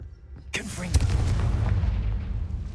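A Confringo spell blast in the Hogwarts Legacy video game: a sharp crack followed by a heavy, rumbling boom that rolls on for a couple of seconds with a deep low-end tail.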